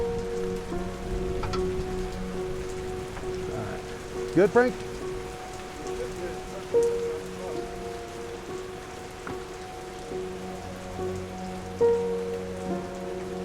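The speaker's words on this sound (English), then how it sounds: "So rain's starting to come down now." Steady rain patters on a surface while people talk nearby during off-road trucking at Lytle Creek, with a few sharp clunks and knocks rising above the downpour.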